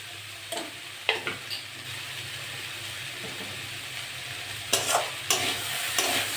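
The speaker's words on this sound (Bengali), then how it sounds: "আস্তে আস্তে ভাজা করবো।" Potatoes and greens with shrimp stir-fried in a pan, a soft steady sizzle with a few sharp scrapes and stirring clatters of a spatula, close and alone.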